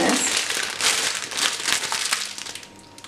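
Crinkling plastic as mayonnaise is squeezed from a packet onto a layered New Year salad, a close, rustling crackle with soft squishy pulses and faint room noise.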